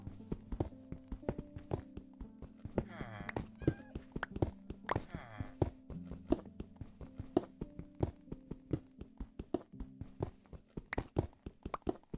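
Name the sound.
cat meowing in Minecraft video game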